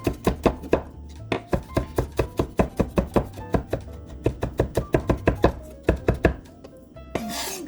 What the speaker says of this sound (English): I have to chop the garlic. A couple cloves of garlic.